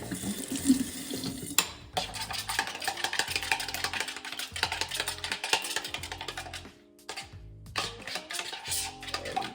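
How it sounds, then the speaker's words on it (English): A kitchen tap runs while dishes are washed under it, a continuous close splashing stream with occasional clinks, briefly dropping away near the end before the flow resumes. "So I'm washing dishes as I'm going."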